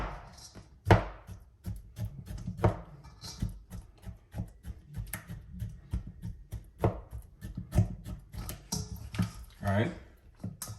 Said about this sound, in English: start poking some holes inside the beef, right, just to make the season soak inside the meat a little faster